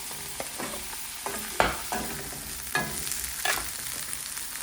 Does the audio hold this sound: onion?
yes